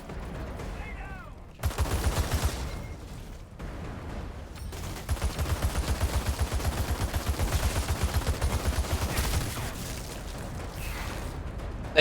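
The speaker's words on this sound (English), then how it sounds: "so this thing shoots a lot of bullets for low damage" Rapid automatic gunfire from a high-fire-rate weapon in the video game Outriders, long steady bursts of closely spaced shots with short pauses, loud and continuous, with brief talk mixed in.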